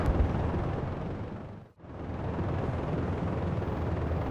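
Helicopter rockets blast in the combat game Project Reality, a loud rumbling explosion with a long roaring tail that briefly dips to near silence before a second sustained rumble swells and continues.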